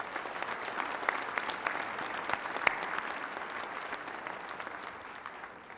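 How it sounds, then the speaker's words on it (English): A commencement crowd applauds the people on stage, a thick, steady wash of many hands clapping with a few sharper individual claps standing out, slowly easing off toward the end. "if you could help me give everyone on stage one more round of applause"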